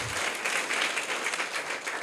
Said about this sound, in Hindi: इनके लिए आप लोग तालियां बजाइएगा